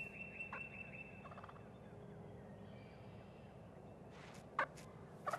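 Eastern wild turkeys gobble in open country, a few short bursts rising late in the stretch, fairly distant over a quiet steady background hiss.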